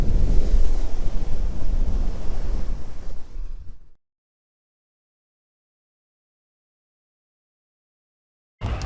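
Ocean waves on a Florida beach: a loud, steady broadband rush of surf and wind buffeting the microphone for a few seconds, then abrupt silence, with the roar briefly returning at the end.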